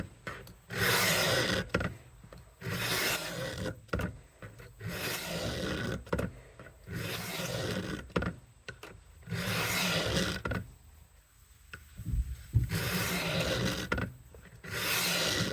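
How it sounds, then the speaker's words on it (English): A Victorinox kitchen knife is drawn across the coarse stone of a Worksharp guided sharpening system, giving close, repeated gritty rasping strokes in a steady back-and-forth rhythm with brief pauses, no speech. "Put this knife on the stone. This is the coarse stone that comes with the sharpening system. And I'm going to do passes."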